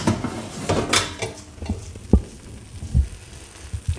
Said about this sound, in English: Oh, can we hear that sizzle?